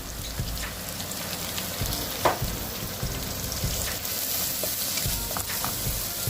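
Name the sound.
onions frying in a pan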